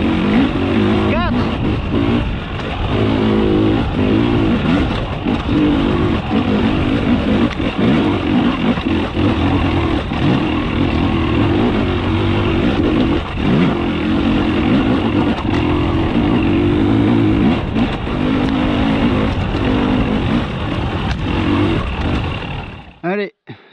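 Husqvarna 300 TEi two-stroke motorcycle with a remapped ECU, modified TPS and idle screw, launching off in second gear without the clutch; loud, raspy engine drone held close and nearly constant, cutting off abruptly at the end.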